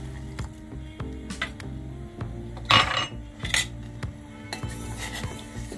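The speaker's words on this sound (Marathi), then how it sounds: "आता आपण ही मिल्क पावडर जी मिक्स केली आहे गरम पाण्यामध्ये ती ओतायची" Milk powder mixed into hot water is poured into boiling tea in a pot, with clinks and knocks of a pan and utensils against a steady low bubbling hum.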